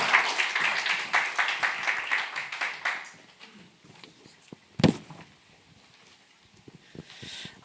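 Applause welcoming a speaker at a church camp gathering, a burst of rhythmic group clapping that fades after about three seconds, followed by quiet room noise and a single sharp knock.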